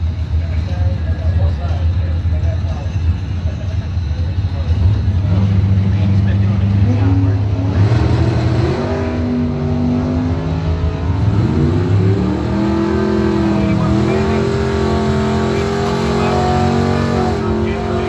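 Drag race cars, among them a 1969 SS Camaro, rev and accelerate loudly with rising engine tones, while an announcer talks over the roar at the track.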